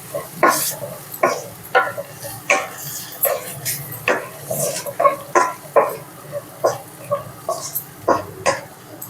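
Ridge gourd fry being stirred in a pan with lentil powder: loud, close, rhythmic scraping strokes of a spatula repeat steadily over a faint sizzle, with no talk.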